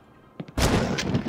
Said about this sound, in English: That is an effective shotgun. 2 shots to the chest, no big deal.